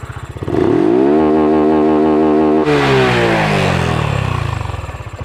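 Honda Wave 125i motorcycle with stock exhaust revving hard and loud to the rev limiter, a sustained high engine wail that holds and then sharply cuts back and winds down, with no talking.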